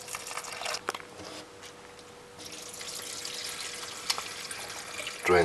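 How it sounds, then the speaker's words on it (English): Water rinsing about two cups of wheat grains for sprouting, a steady splashing wash with a few sharper drips and patters, ending in a louder burst of pouring near the close. "Drain the water and rinse it again."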